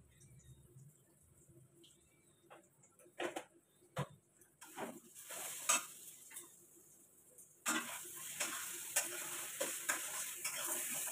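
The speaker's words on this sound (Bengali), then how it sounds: "ডালটাকে আমি এবার কড়াইতে দিয়ে দিচ্ছি।" A dal mixture hits a wok and is stirred, starting with sparse knocks and clinks, then bursting into a loud sizzle with repeated scraping strokes that grows denser toward the end.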